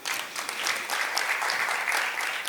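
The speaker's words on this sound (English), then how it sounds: "Please clap your hands" Audience applause at a conference session on HIV in Africa, dense, even clapping from many hands holding steady throughout with no talking.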